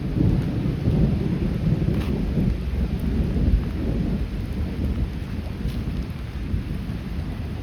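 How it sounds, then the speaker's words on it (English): Thunder rumbling during steady rain on a lake in the Bowron Lakes area, heard from a kayak. A low, continuous roll of thunder sits under the hiss of rain for about eight seconds. "There, now I think I captured some of the thunder."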